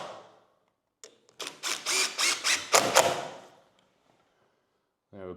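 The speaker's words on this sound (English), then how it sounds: "get the jig lined up here where I want it, and I'll just screw it in" A screw is driven through a door jig into a wooden door frame, giving a run of six or seven rhythmic mechanical whirring bursts, close and fairly loud, with quiet pauses before and after.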